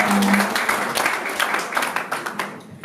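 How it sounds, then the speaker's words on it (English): A crowd claps in quick, uneven bursts at an event, a near round of applause tapering slightly, with a brief voice audible at the start. "Please clap for yourself."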